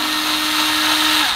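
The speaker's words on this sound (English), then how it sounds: "It's my revolver drill gun." A revolver drill gun drives a screw into a guitar body. It gives a steady, loud, close motor whine with a constant pitch, continuous for its brief length with no talking.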